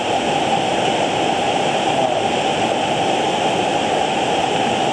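A waterfall roars close by, a dense, unbroken hiss of falling water that holds steady and loud for the whole stretch, with no voices.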